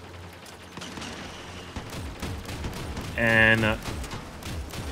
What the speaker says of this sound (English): that single shot just messed him up completely